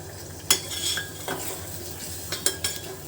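Boiled eggs being stirred into a spiced masala in a pan, with a soft steady sizzle broken by a few sharp clinks of a spoon against the metal.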